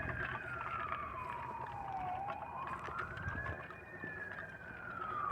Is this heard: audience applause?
no